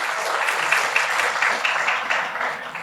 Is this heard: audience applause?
yes